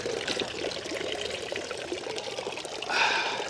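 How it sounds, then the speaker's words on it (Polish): Clean spring water pouring from a public city fountain in Switzerland, a steady close splash and trickle that brightens near the end. "Czysta, źródlana woda z miejskiej fontanny."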